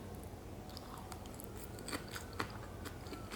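Someone bites and chews a piece of carrot up close, producing soft, irregular crunches with a couple of sharper snaps, and no talking.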